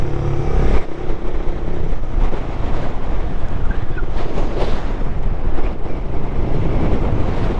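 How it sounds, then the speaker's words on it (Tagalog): Strong wind buffeting the microphone during a solo motorcycle ride near a nature park in Malico, Pangasinan, a loud continuous roaring rumble throughout with no pauses. "Ang lakas ng hangin dito."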